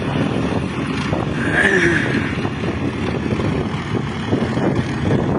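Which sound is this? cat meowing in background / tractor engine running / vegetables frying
tractor engine running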